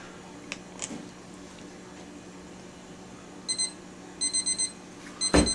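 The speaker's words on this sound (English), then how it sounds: "That's my timer." A kitchen-style timer alarm goes off in a stained glass workshop, a few short electronic beeps at first, then a faster run of repeated beeps, against a quiet room hum with a brief thump near the end.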